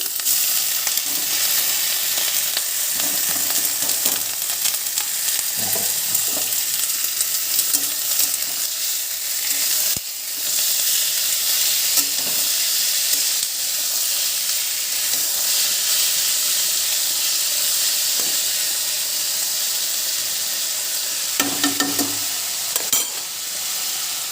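Water lily stems cooking in a pan for shapla bhaji with potato give a loud, continuous sizzle and frying hiss for the whole stretch, broken by occasional scraping stirs.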